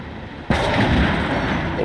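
A loud artillery shell blast strikes a StuG assault gun in the World War II game Gates of Hell, a sudden close explosion that cuts in and rolls on as a dense, sustained rumble.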